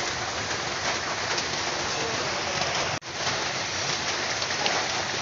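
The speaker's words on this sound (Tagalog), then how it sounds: "Antayin lang natin humupa yung ulan." Steady, heavy rain pours down outside a house under construction, a dense continuous hiss with no break except one brief dropout.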